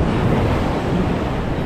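Sea waves wash and churn around a small fishing boat in rough water, a dense continuous rushing roar mixed with wind noise, close and steady, with no voices.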